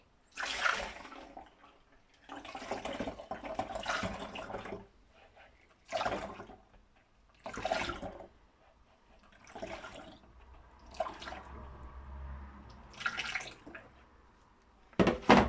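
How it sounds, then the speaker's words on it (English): Buttermilk drains from freshly made homemade butter into cleaned vinegar bottles, intermittent pours and trickles of liquid in several separate bursts, close by, with no talking. "I'm going to drain the buttermilk."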